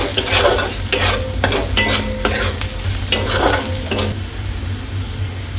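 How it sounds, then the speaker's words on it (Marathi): A spiced Khandeshi mixture with turmeric and masala is sautéed in a pan, a constant close sizzle punctuated by repeated scraping and clinking strokes of a spatula against the pan, with no talking. "आणि हे सर्व आता मी परतवून घेणार आहे"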